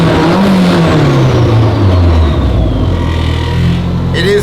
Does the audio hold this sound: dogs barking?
no